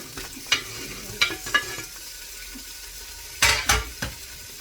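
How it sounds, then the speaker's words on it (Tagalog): Garlic and ginger sautéing in a pan for tinola, a low sizzle broken by several sharp scrapes and clacks of a utensil against the pan, with two louder strokes near the end. "magigisa tayo ng bawang"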